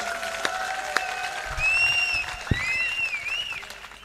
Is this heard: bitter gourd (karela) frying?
no